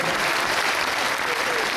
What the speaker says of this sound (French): Applaudissements pour Vincent Duport.